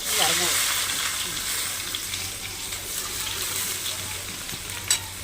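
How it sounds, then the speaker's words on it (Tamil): Chopped onions fry in a hot pan of oil during home cooking, giving a steady, close, loud hiss of sizzling that holds for several seconds, with a brief voice near the start and a small clatter near the end. "இப்போ நம்ம வெங்காயத்தை போட்டுக்கலாம்"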